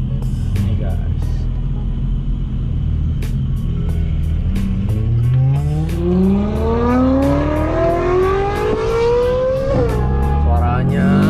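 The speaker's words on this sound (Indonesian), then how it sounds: "emang Ferrari itu suaranya kacau, keren banget sih" Ferrari 458 Italia V8 revving hard, the pitch climbing in a long sweep, with downshift blips and a rumbling exhaust close by. Someone talks over it at points.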